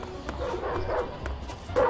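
A dog barks and yips in the Ed Edd n Eddy: The Mis-Edventures video game during a stage with rats and dogs; short, sharp bursts repeat over busy, continuous game music and effects.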